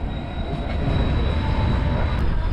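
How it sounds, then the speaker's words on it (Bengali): The 18409 Sri Jagannath Express rolls into Puri railway station, heard from on board. A close, steady rumble of wagons runs throughout, with faint wheel squeal above it and no speech. "ঢুকছে আমাদের ট্রেন এখন পুরী পুরী রেলওয়ে স্টেশন চলে এসছে"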